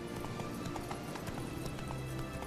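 Roach, the horse in The Witcher 3, trots with quick, regular hoof clip-clops on the ground. The hoofbeats are moderately loud over a soft game ambience.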